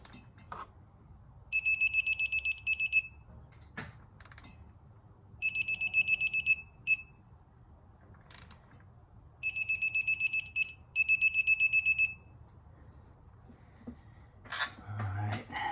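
Bursts of rapid electronic beeping from a diagnostic tool while working on a Jeep Pentastar 3.6-liter engine during a camshaft and rocker arm change, four clustered beep runs over a low mechanical hum with occasional clunks.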